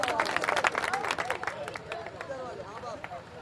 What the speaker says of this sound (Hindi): तालियां बजा दो एक बार